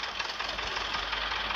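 A New Holland tractor engine in a 3D simulator video game drones steadily with a knocking, idle-like chug, moderately quiet and alone with no speech.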